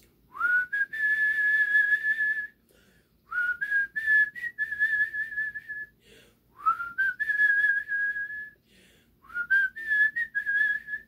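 A person whistles outdoors in four long, separate phrases, each rising and then holding a steady tone, close and fairly loud with short pauses between them.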